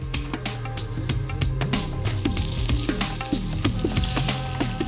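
Prawns sizzle and spit in hot sunflower oil in a frying pan, a steady close crackle with sharp pops throughout and no voices.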